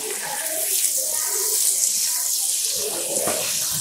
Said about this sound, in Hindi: अब मैं इसमें प्याज डाल देता हूं